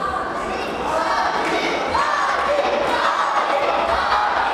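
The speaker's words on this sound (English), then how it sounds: "You can see the crowds cheering from the blue corner." A crowd cheers at a combat fight between the red and blue corners, with a constant loud roar of voices and a few shouts rising above it.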